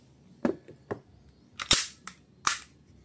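A WE G17 Gen 4 airsoft pistol fires several sharp, snappy shots at irregular intervals, with a few softer clicks in between, close and clear against a quiet background.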